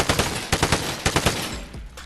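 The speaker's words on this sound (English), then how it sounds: "Like if it's like thin, like these pallets, you can definitely shoot through these." Rapid automatic gunfire in the video game Vigor, rounds fired through thin pallet walls in quick sharp bursts, close and loud, the last shots trailing into a low rumble with no voices.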